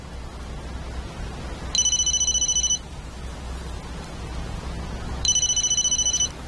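A telephone rings with an electronic tone in two separate bursts over a steady low hum in a quiet home.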